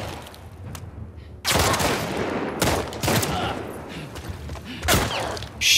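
Enemy gunfire in The Last of Us Part II video game erupts loudly, with a sustained fusillade followed by several heavy repeated shots and bursts, close and intense over game ambience.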